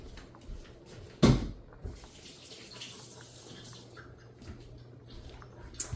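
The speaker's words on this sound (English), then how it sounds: "Now I'm gonna rinse my hands off." Hands rinsed under a running kitchen tap while cabbage and beef soup is made, water splashing and running close by with a sharp splash at the start and faint clatters.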